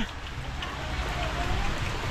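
Heavy rain pours steadily and strengthens into a dense, continuous hiss of drops on surfaces outdoors, with no other sound rising above it.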